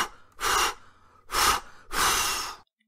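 A voice imitates a wolf blowing hard on a house with three forceful, breathy blows, each about half a second long, close and alone.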